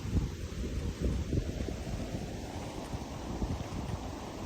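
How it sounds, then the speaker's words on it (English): Wind blows steadily outdoors in a peaceful natural spot in northern New Jersey, a broad low rumble buffeting the microphone with gusty swells, alone and fairly loud. "Little windy today."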